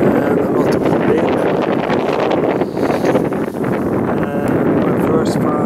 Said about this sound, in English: Nice weather, cold, one minus, and a lot of wind.